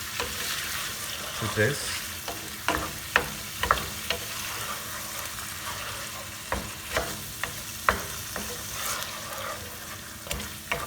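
Kadai masala sizzles in hot oil with ginger garlic paste in a pan while a spoon stirs, a steady close frying hiss broken by regular sharp scraping taps of the utensil, with a brief spoken word over it.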